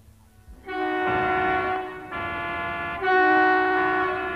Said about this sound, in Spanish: Las bocinas a todos molestan.